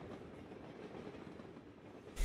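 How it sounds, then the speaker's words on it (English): A train rumbles past in the video game Drug Dealer Simulator, a faint steady rolling clatter of rail cars that ends with a sudden louder thump. "Train coming through the fucking house?"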